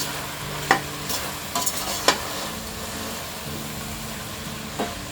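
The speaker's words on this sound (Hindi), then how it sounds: "मिक्स कर देते हैं।" Salt, turmeric and coriander powder are stirred into masala pulao in a pot, with a few sharp scraping clicks of the spoon over a soft, steady sizzle and no voices.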